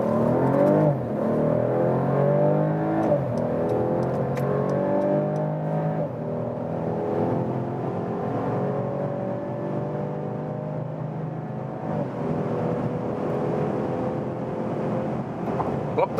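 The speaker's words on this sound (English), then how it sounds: "We put it here to the Sport Plus mode. German Autobahn, motorway here." A Mercedes CLS 450 accelerating hard in Sport Plus mode on the German Autobahn, a steady rising engine drone and road whir heard from inside the cabin, with no talk.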